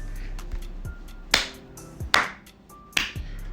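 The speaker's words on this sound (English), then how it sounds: "However, their thoughts would then be interrupted by clapping" A few slow, separate sharp claps ring out close by, about four in all, spaced unevenly with quiet between them.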